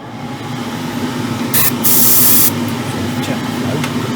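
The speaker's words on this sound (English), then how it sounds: "So I've got the airbrush loaded up," An airbrush sprays white primer onto the body of an Alpha Model Ferrari 812 Superfast kit: a close, loud hiss lasting about a second, then short puffs, over a steady low hum from a fan.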